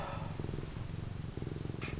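A cat purrs steadily and close up, a low continuous rumble with a regular pulsing rhythm, delivered right behind a sleeping owner in the morning.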